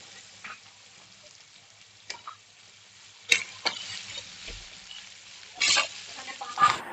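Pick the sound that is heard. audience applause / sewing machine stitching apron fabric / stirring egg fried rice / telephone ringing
stirring egg fried rice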